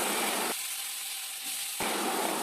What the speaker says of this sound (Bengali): একটু কালো জিরে ফোড়ন দিয়ে আমি তরকারিটা দিয়ে দিয়েছি এবার একটুখানি হালকা ভেজে নিয়ে